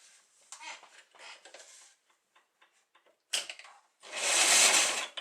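LK150 knitting machine carriage clicking and ratcheting across the needle bed while stitching, with several short mechanical passes followed by a louder, longer rasping sweep near the end.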